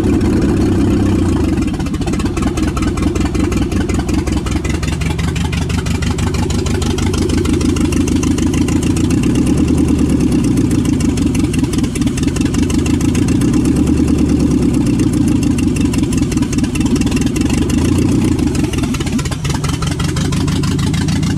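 A Lexus IS300 fitted with an LS1 V8 idles steadily with its idle air control valve disconnected, a loud, close, continuous low rumble that swells and sags slightly for the whole stretch, with no talk over it.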